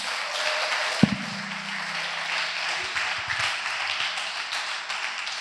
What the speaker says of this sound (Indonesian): Tepuk tangan buat Al-Akh Yunus.